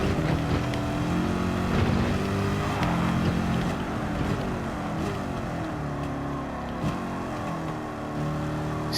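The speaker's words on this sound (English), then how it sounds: "Supercharged, you can hear the supercharged whine as well." Supercharged car engine in Gran Turismo 7 racing at high speed, a steady loud drone with a continuous high whine layered over it, holding fairly constant throughout with no talking.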